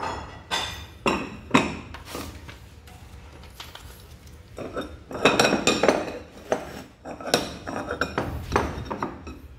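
Ceramic Japanese plates and bowls clink and clatter in repeated bursts as they are handled and stacked, close and sharp, with quieter pauses between clusters.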